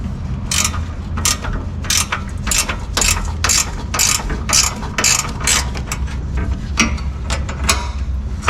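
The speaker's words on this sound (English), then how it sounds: "a series of 15 bolts that you're gonna have to get to with a wrench" Wrench ratcheting on bumper bolts of a 2014 Chevrolet Silverado, about a dozen quick bursts of sharp clicking in an even rhythm, close and clear with no talk.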